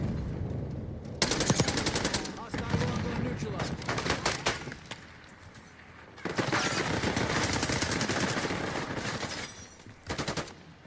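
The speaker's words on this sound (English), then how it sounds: "Ah, yes, the AK-74." Automatic bursts from an AK-74 rifle in Modern Warfare 2 (2009) crackle loud and close, in several long volleys separated by brief pauses, with a final short burst near the end.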